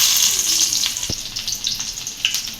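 Hot oil sizzles and fries steadily in a pan while cooking taro stolon curry, a close, continuous crackling hiss with a brief clink near the middle and no talking.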